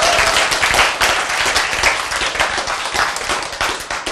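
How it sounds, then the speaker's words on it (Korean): A church audience breaks into loud, dense applause during a Korean sermon, many hands clapping close and continuous for several seconds with no voices over it. "예, 박수."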